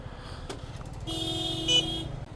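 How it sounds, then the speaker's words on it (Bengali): An ambulance passes on the Siliguri–Purnia road, its siren holding steady tones that rise over the traffic noise partway through and swell briefly louder near the end, with car horns in the mix. "অ্যাম্বুলেন্স যাচ্ছে একটু আওয়াজটা শোনো তোমরা"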